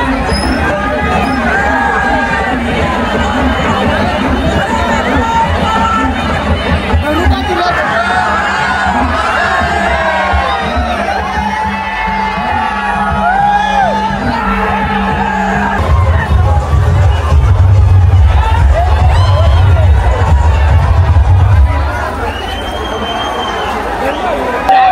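Dense, jostling street crowd at the Nashik Rangpanchami Holi festival, with continuous loud chatter, shouts and cheering, swelling into a heavier roar near the end.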